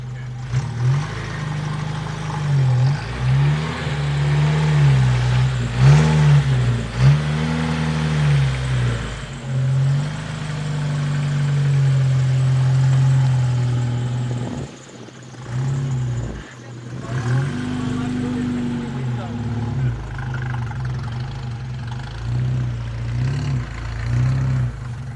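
Jeep TJ engine droning steadily at low revs as it crawls through a deep rut at a beaver dam, with a few brief throttle swells and dips, no talking over it.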